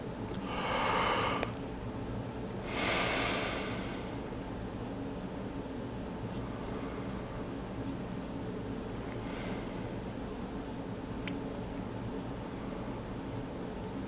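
Slow breaths drawn in through the mouth in a quiet ASMR session: two soft, airy rushes close to the microphone early on, then a steady low hiss with only faint stirrings.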